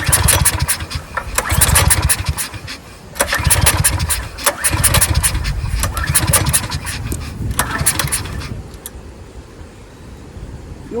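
A 14-year-old Briggs and Stratton generator engine that sat unused for over five years cranks and sputters, catching in rough bursts that fade and surge repeatedly before dying off, loud and close.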